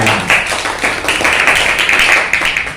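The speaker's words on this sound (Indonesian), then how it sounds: "Tepuk tangan." A classroom audience claps, a steady patter of hand claps that swells and continues for a few seconds, close and fairly loud.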